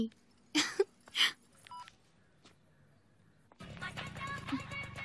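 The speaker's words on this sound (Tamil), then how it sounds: "கால் பண்றது இந்த வசந்தியா தான் இருக்கும" Mobile phone ringing in a Tamil movie scene, with a few short tonal bursts early on, then a quiet gap before louder, busier background sound takes over.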